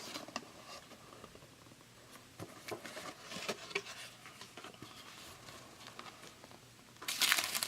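Ribbons are pulled off a Dior gift box. Soft rustling, crinkling and small taps run close and quiet, ending in a louder brushing swish, with no talk.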